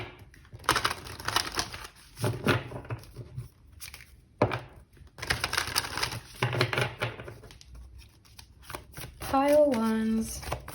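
Oracle cards are shuffled by hand in bursts of riffling, flicking card noise, close and crisp, with pauses between and a voice talking over parts of it.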